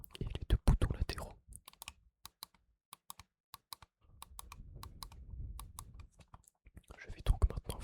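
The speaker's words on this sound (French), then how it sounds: "clic gauche, clic gauche, clic droit, le clic de la molette et les deux boutons latéraux" Sharp, isolated computer mouse clicks (left, right, scroll wheel and side buttons) sound close up in quick sequence, separated by brief pauses, with soft rustling handling noise between them.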